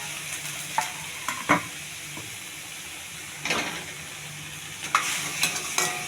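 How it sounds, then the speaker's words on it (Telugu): Mushroom, carrot and green peas frying in a pan, a steady sizzle with a spoon scraping and stirring in several distinct strokes, close and alone without talk. "కొంచెం బాగా ఫ్రై చేసుకోవాలి."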